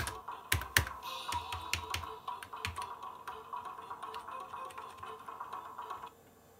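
Irregular clacking of keys typed on an original Bondi Blue iMac G3 keyboard with a possible key fault, quick taps in bursts with a few louder strikes, close by and with no voices.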